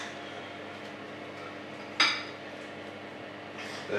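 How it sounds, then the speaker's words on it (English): A serving spoon strikes a cooking pot with one bright metallic clink midway, then a fainter scrape near the end, against a steady low kitchen hum. "Get a nice serving spoon."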